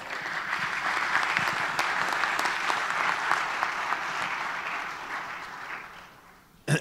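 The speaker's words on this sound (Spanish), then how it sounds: "Un aplauso." An audience at a real estate expo panel on private construction in Argentina applauds steadily for several seconds, a dense wash of clapping that fades toward the end before a sudden bump of noise.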